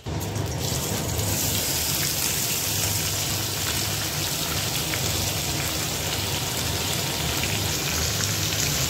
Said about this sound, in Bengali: এটাকে বেশ লাল লাল করে ভেজে নেব।